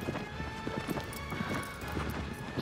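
A horse gallops in the video game Shadow of the Colossus with a quick, steady clip-clop of hooves, heard fairly quietly under a constant wash of ambient game sound.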